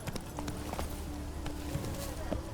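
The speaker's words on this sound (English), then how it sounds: "Even a horse drops if you ride it at a constant gallop." A horse gallops in The Witcher 3 with steady, rapid hoof clip-clops. The hoofbeats sit close and loud, running continuously under a game voice that speaks over them.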